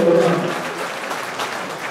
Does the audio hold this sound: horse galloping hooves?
no